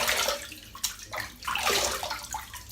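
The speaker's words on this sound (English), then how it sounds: "I'm just going to splash a bit of hot water on." Hot water splashed by hand for a wet shave, close and fairly loud: several uneven bursts of splashing and dripping over a running-water background, with no talking.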